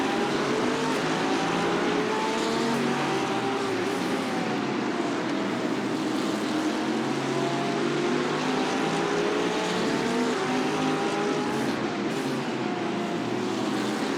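A Porsche race car in a racing video game at Catalunya drones steadily at high revs, a continuous buzzing engine tone with slight pitch sweeps, moderately loud and unbroken by talk for the whole stretch.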